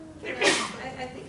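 A sharp sneeze bursts out once amid conversation, brief and fairly close, with talking before and after it.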